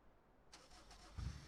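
Modified Fiat Doblo engine in a car simulator game cranks and catches, a brief starter whir followed by a low, rising rumble as it fires up near the end.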